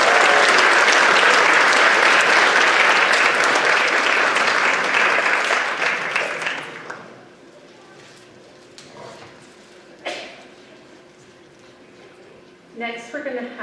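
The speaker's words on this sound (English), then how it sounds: "One more round of applause for them." An audience at a school district board meeting claps loudly and steadily for about seven seconds. The applause then dies away, leaving a quiet room with a few scattered knocks and faint sounds.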